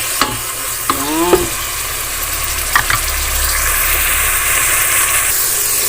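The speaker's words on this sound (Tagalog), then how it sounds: "Gisa-gisa na tayo, guys." Sautéing in an electric multi-cooker: a steady loud sizzle and hiss runs throughout, with a few scraping stirs and clanks of a utensil early on, no talk.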